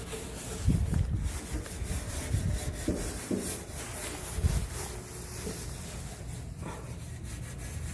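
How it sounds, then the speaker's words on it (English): A stainless steel scouring sponge scrubs greasy grime off an outdoor grill, giving a steady, close, harsh rubbing and scraping that runs continuously with faint irregular knocks and no talking. "We use a Scott Bright stainless steel"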